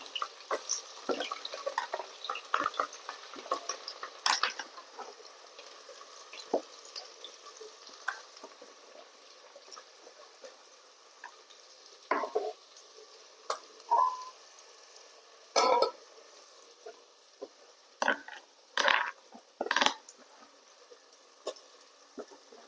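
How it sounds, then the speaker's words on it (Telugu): Chopped onions and green chillies frying in hot oil for a gongura chicken curry, a steady close sizzle broken by repeated scraping stirs and louder bursts of spattering toward the end. "ఇప్పుడు ఆయిల్ హీట్ ఎక్కింది ఇందులో మనం కట్ చేసుకున్న ఆనియన్స్ పచ్చిమిర్చి వేసేసుకున్నాము"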